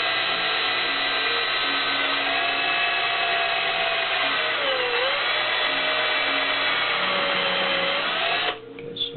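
A power drill at high speed boring a small starter hole while building a Mylar telescope's ring seal support, a steady close whine that holds for several seconds, wavers briefly, then cuts off near the end.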